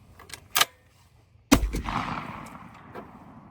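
A shotgun firing Apex number 3 waterfowl shotshells that had been submerged for three hours outdoors, with one faint distant shot followed by a single loud, close blast that rolls away with a long echoing decay.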